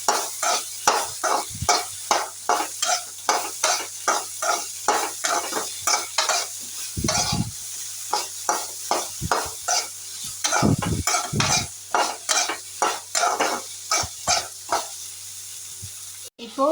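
Broccoli is stirred in a frying pan with quick, regular scraping strokes under a faint sizzle and a low steady hum, close and fairly loud.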